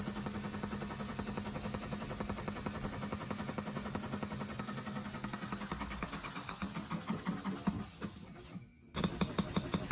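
A restored model steam engine runs clockwise, giving a steady, fast mechanical chuffing and clatter with an even rhythm, close by, broken near the end by a brief louder hiss.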